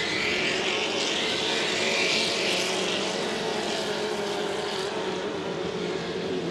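A 2.5 litre racing hydroplane engine at speed during a heat at Valleyfield, a steady distant roar of engine and water rushing with no breaks, fairly faint and without talk.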